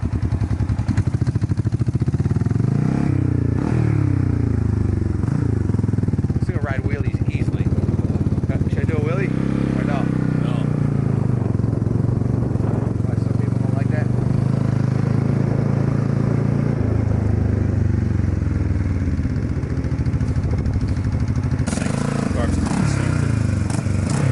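A 1974 Honda CB450 motorcycle engine roars close by as it accelerates through gears on the road, rising and falling in pitch, loud and continuous with brief voices underneath.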